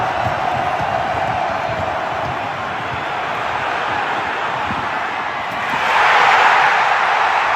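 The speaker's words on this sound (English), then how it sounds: "listen to the roar of this crowd when he catches this pass" A stadium crowd at a Detroit Lions football game roars as Jameson Williams catches a touchdown pass, a broad constant din that swells louder near the end.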